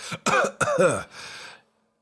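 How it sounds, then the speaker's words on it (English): A voice in a Dragon Ball parody makes a short run of three or four raspy coughs with a throat-clearing edge, close and fairly loud, before falling silent. "I just have a light cough."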